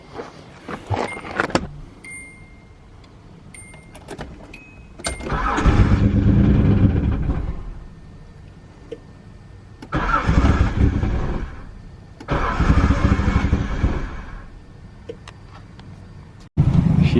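A Nissan 300ZX fitted with new spark plugs cranks with a few sharp clicks, then its engine catches and runs in repeated loud surges separated by quieter idling, heard up close with no talking.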